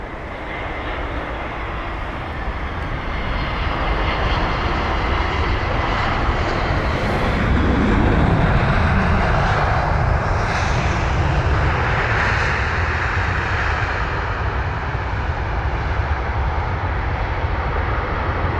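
An Airbus A320-200 in Brussels Airlines livery, 21 years old, arrives at London Heathrow from Brussels. A steady, loud engine roar builds and holds throughout, swelling slightly mid-pass, with no talk over it.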